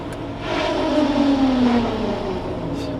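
A tractor engine pulling a bush hog mower drops in pitch as it idles down, a steady loud drone with a falling tone that settles into a lower hum.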